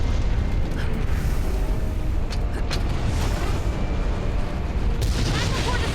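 Cannon fired at the giant monster Zorah Magdaros in the game Monster Hunter World; a few heavy booms and bursts over a loud rumbling backdrop, with a voice speaking over them.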